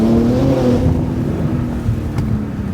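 A catted BMW G80 M3 in Imola Red fitted with an equal length mid-pipe, its exhaust droning loudly and steadily at close range as the car cruises, with no voices over it.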